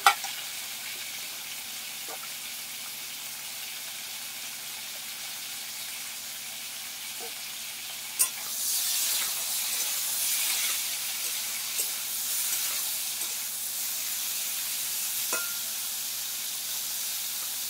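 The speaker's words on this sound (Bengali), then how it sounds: "ঝিঙেটাকে ভাজা করছে বৌদি ভাই" Ridge gourd slices fry in a pan, a quiet hiss at first that swells into a louder, steady sizzle after a sharp clank partway through, with occasional stirring scrapes.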